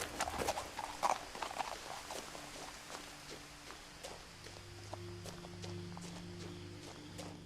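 Horse hooves clip-clopping at a steady walking pace in the video game What Remains of Edith Finch, fairly quiet, with a low droning hum of background music underneath.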